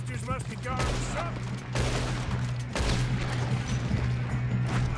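Gunfire in a Red Dead Redemption 2 shootout near a train, with bursts of shots and impacts over a constant low hum, while a voice talks over the action.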